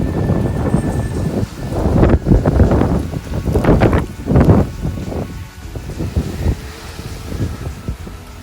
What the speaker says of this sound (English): This is windy.